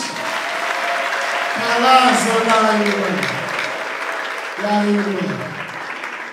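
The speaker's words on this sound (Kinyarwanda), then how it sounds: "komera Imana amashyi" A church congregation claps for God during worship. Scattered applause runs beneath loud, sung or shouted voices from the congregation.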